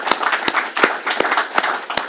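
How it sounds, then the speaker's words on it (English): A round of applause from a room of people at a farming soils talk, a loud, rhythmic run of evenly spaced claps, close and strong, with lighter clapping blended between the beats. "I'd like to ask those in the room to join me in thanking those people with a round of applause"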